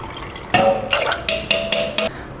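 Buttermilk drips and trickles through a strainer in a series of about five short, fairly loud splashing bursts with brief pauses between them, close by, and no talking.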